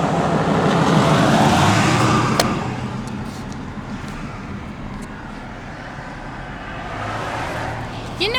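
A car drives steadily along a road with a broad engine and tyre rumble heard from inside, loud at first and then settling slightly, with a passing swell near the end.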